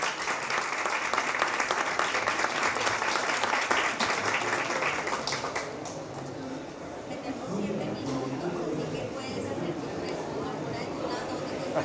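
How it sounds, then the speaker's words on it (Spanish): Audience applause at a book launch at a Bogotá book fair, dense clapping for the first half that thins into scattered claps and murmuring voices toward the end. "un aplauso para todos los que trabajaron en el proyecto"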